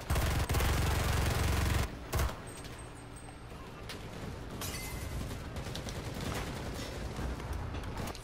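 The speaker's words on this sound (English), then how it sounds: "I'll use this fucking machine gun till it's empty." Degtyarev machine gun firing in a video game, a dense, loud rattling burst that cuts off abruptly after two seconds, followed by scattered distant gunfire and battle rumble.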